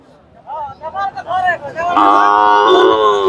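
Cattle at a busy tribal cow market in Purulia low and moo, with long sustained lowing calls in the second half over crowd murmur, while people talk nearby early on.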